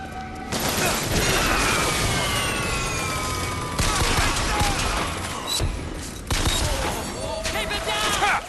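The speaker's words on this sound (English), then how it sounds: "Gunshot!" Bursts of gunfire ring out in the video game Bioshock Infinite, a loud, sustained volley of shots with booms, mixed with shouting and chaotic combat sounds.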